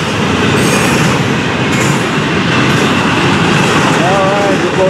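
A double-stack freight train rolls past close by, a steady loud roar of wheels on rail with faint squealing tones near the end.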